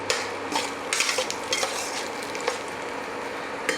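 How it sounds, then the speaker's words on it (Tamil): Onions sautéing in a hot pan, a loud continuous sizzle broken by repeated scraping strokes and light clinks of a spatula as they are stirred. "இப்போ வெங்காயம் நல்லா பச்சை வாசனை போகிற வரைக்கும் நல்லா வதக்கிக்கலாம்"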